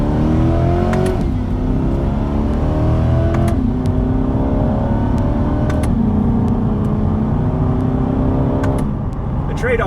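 2020 Chevrolet Corvette C8 Stingray 2LT with an eight-speed dual-clutch gearbox, accelerating in manual mode: a loud, close engine note that rises in pitch through several repeated climbs, each cut short by a quick shift.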